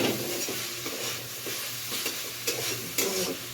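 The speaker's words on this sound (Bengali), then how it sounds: "চিকেনটা যখন ভাজা হয়ে আসবে স্বাদ মতন লবণ দিয়ে আর একটু ভেজে নেবো" Chicken pieces frying in a pan, a steady dense sizzle with occasional soft clinks and stirring scrapes of a spatula against the pan, close up and with no voices.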